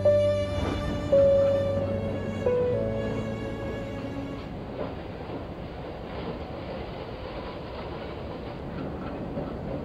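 A train rolls steadily along the rails with a continuous rumbling clatter, a few tonal squeals or horn-like notes rising early before settling into a steady drone.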